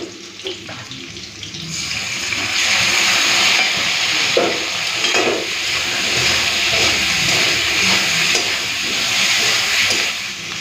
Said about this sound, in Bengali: আলুর সাথে মশলাটাকে এক সেকেন্ডের মতো ভেজে নিলাম